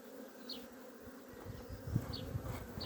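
Honey bees hum steadily around an opened hive during a beekeeping frame inspection, a soft continuous buzz with a few individual bees passing close by.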